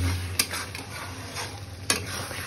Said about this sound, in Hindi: आज तेज करके इसको थोड़ा फ्राई करेंगे